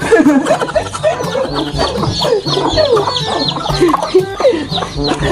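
A flock of chickens clucks continuously close by, overlapping bursts of clucks and squawks in a busy, lively chorus.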